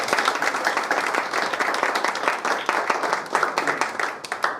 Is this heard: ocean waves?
no